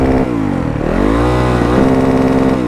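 A 2023 Yamaha YZ 450F dirt bike engine revs hard at a launch start, loud and close, with a rising then dipping throaty drone that surges again near the end.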